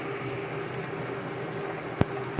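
A pot bubbles at a steady simmer, a soft continuous gurgle with one small knock near the end.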